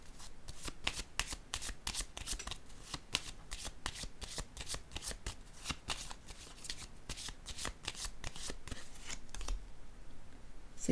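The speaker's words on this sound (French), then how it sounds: "Je vais déposer une carte ici." Tarot cards are shuffled and handled during a reading: a steady, quiet stream of crisp riffling and flicking card snaps that continues for several seconds before easing off.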